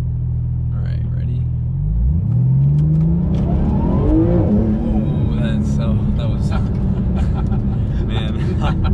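A Porsche 911 GT2 RS rumbles low, then accelerates hard, its engine note sweeping upward through the revs in a loud, close, continuous surge from the cabin.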